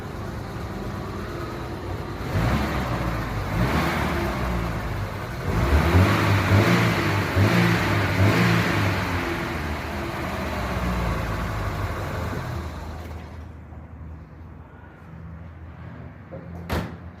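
A Ford Taunus engine idles steadily and fairly quietly after its carburetor adjustment, a close continuous mechanical drone that swells slightly midway, then drops off near the end, leaving a faint hush and one brief knock.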